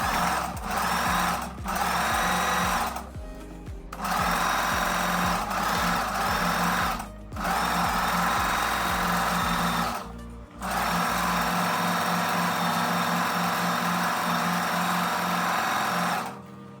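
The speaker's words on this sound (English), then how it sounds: "we can go along with the machine and stitch this hem." A sewing machine stitches a blouse hem in loud, close bursts of fast rhythmic whirring. Short pauses break up the runs, and a final stretch goes quieter near the end.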